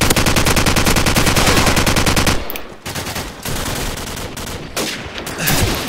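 Rapid, loud AK47 automatic fire from Call of Duty 4 in a sustained burst, then shorter broken bursts with brief gaps, close and dense.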